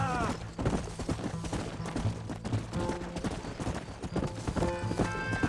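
Rapid hoofbeats of a galloping horse clatter continuously in the video game Red Dead Redemption, with gunshots and musical tones mixed in and some voices underneath.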